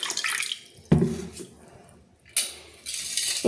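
Water splashes into a small steel bowl in a home kitchen, set aside for soaking yellow mustard seeds for a Bengali pui shak chochhori. It comes as two short, close pours with quiet gaps between them.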